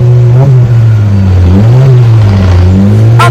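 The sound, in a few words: Honda City 2016 engine revving with free flow muffler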